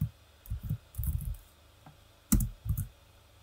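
Keys on a computer keyboard clicking in short, close bursts of a few strokes each, separated by quiet pauses, while a command is entered during a binary-exploitation debugging session.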